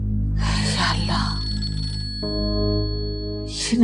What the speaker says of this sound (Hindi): ये नादरा मुझे क्यों फोन कर रही?